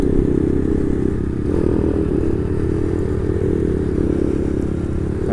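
Motorcycle being ridden home, a steady loud engine drone with road rumble and slight clatter throughout, no talking.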